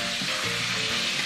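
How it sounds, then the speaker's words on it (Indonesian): Food fries in a pan during a home cooking session, giving a continuous close crackling sizzle with faint stirring scrapes and no talking. "Padahal mah dia goreng-goreng doang ya."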